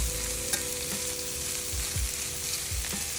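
Onions sautéing in a hot pan for steak fajitas give a steady, close sizzle and fry crackle, with a few soft stirring scrapes and no talk.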